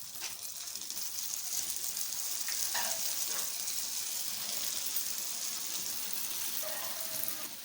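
Rice flour bonda batter drops into hot oil and fries with a steady, bright sizzle throughout, close and unbroken, with a few faint clinks over the bubbling.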